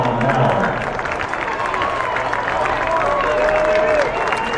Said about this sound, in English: fans trying to cheer on their pitcher, give him a little bit of confidence, pump up the adrenaline just a bit